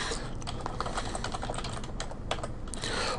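A folder name is typed on a computer keyboard in a fast, continuous patter of close keystrokes lasting a few seconds, with no talking.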